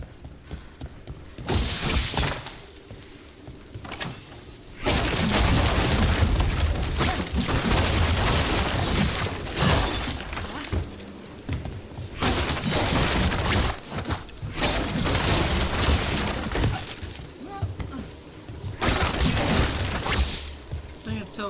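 Objects shatter and break apart in the Dragon Age: The Veilguard video game, with repeated crashing smashes and thuds while a voice talks over the gameplay noise.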